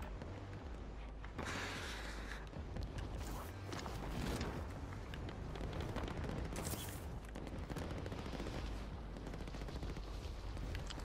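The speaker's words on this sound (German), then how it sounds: "Ein Schuss, ein Treffer." Gunfire in Call of Duty Warzone rattles almost continuously, dense bursts and booms layered over a loud, busy battle mix with no talk.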